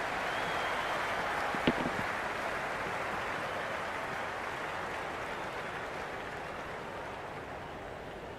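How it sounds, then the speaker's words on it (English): A cricket stadium crowd in the video game Cricket 26 roars as a steady, broad wash of cheering and noise that holds evenly throughout, with one brief sharp clap near the start. "The crowd are on the edge of their seats. The crowd is electric right now."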